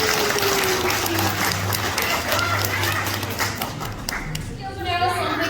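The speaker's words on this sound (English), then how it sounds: "Give it a round of applause, guys." An outdoor crowd on an Easter weekend in Biloxi, Mississippi claps for a climber reaching the top, a scattered, patting round of applause. Voices and low rumbling noise sit underneath the clapping.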